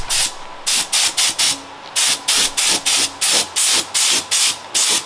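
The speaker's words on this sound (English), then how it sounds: "Literally with a spray gun makes life so much easier." Repeated short bursts of a spray gun laying the first coat of paint on a VW, close and loud, each hiss lasting under half a second with brief gaps between, steady rhythm.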